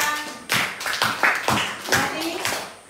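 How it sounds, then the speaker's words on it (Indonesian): Classroom applause for a student group at an elementary school: a burst of many small hands clapping in uneven rapid rhythm, close and loud, with children's voices mixed in. "Tepuk tangan untuk kelompok 2."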